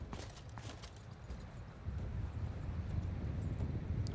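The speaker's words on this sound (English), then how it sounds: "You hear the herd of buffalo coming? Or I should say bison, probably." A herd of bison trampling in Mount & Blade II: Bannerlord, a faint, low rumble of many hooves that grows denser and a bit louder partway through, with wind noise over it.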